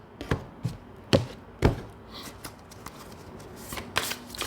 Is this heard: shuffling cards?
yes